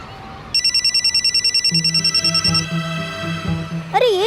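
An incoming call sets a phone ringing with a loud, bright electronic ring, steady repeated pulses close by, which then gives way to a lower warbling tone before a swooping sound effect.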